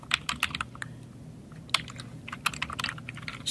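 Someone typing on a computer keyboard, a quick uneven run of close, crisp key clicks with brief pauses, alone and fairly loud.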